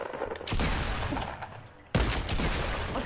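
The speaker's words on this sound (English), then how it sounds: "I got the sniper, man, I'm gonna shoot you in the head" Sniper rifle fire in the video game Fortnite comes as two sharp, loud shots about a second and a half apart, each followed by a dense rumbling tail.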